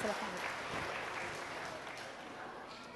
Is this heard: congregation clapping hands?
yes